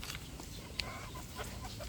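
Faint, scattered clucks from chickens over a low background murmur.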